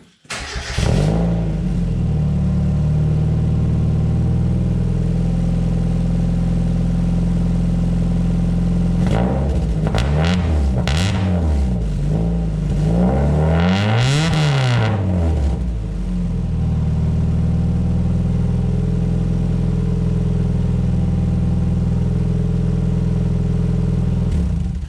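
A car fitted with a loud Exocet exhaust fires up and settles into a heavy, rumbling idle, broken midway by a few sharp revs that rise and fall. It is booming and close, heard in an enclosed garage.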